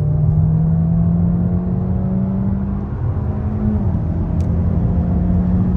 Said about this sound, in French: Bon, on va se tenter une accélération. Là, je suis en 6. Je vais descendre en 3 avec la voiture.